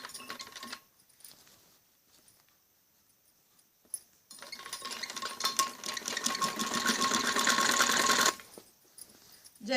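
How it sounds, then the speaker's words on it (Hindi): A sewing machine stitches along the folded edge of a fabric strip at a kameez back neck, a steady rapid whirring run of about four seconds after quieter pauses, with no talk. "पट्टी को ऐसे मोड़ के इसके किनारे पे सिलाई लगाई जाती है"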